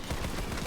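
A semi-automatic gun fires in the video game Borderlands 3, a dense, loud, continuous roar of shots over a very brief moment with no talk.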